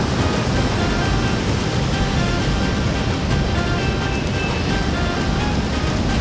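Loud, constant roar of ocean surf breaking on the beach at Ganpatipule, a dense wash of noise with no voices.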